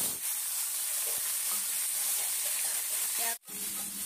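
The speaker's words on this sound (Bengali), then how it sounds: "মিনিট 15 পর চিকেনের টুকরোগুলোকে এপিট ওপিট করে হালকা ভেজে নিলাম।" Marinated chicken pieces sizzle steadily in hot oil as they are turned and lightly fried for a chicken dish with curry leaves, with a brief break in the frying noise near the end.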